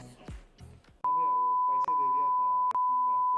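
A Ray-Ban Meta smart glasses call-end tone: a brief voice, then a loud, steady electronic beep that holds for over two seconds, broken by two very short gaps.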